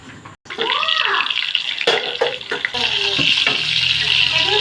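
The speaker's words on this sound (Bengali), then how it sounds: "এই যে মাছ ভাজাভাজি করছে" Fish sizzling as it fries in a pan of hot oil in a home kitchen, a steady hiss with a few clinks and stirring scrapes, fairly close, with no talking.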